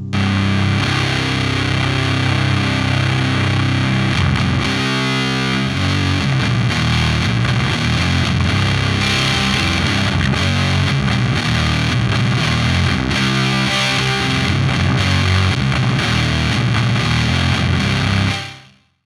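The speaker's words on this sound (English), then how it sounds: "doom metal music is known for its big, heavy sound, its slow, brutal riffs, and fuzz pedals and distortion pedals are really popular in the genre" Heavy doom metal guitar riffs played through fuzz and distortion pedals, a thick, saturated, slow and loud wall of sound that runs continuously with brief changes in the riff before cutting off at the end.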